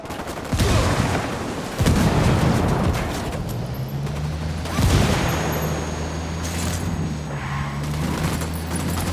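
Gunfire from the video game Ghost Recon Wildlands during a firefight with a cartel: heavy booming volleys and rattling bursts up close, fading into a steady hum and distant rumble.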